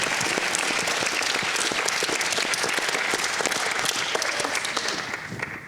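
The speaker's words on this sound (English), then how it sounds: "A round of applause for them." Sustained, dense applause from a seated audience at a workshop marking an institution's 50-year anniversary, loud and steady for several seconds before easing slightly at the end.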